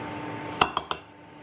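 Three quick metallic clinks of a utensil against a small bowl as crema is mixed with cayenne pepper and paprika, close and distinct over a quiet background.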